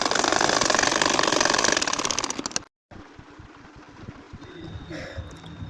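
A sewing machine stitches a nakshi kantha quilt with a steady, close mechanical whir that runs continuously, stops abruptly for a moment, then resumes more softly with a lighter rhythmic ticking.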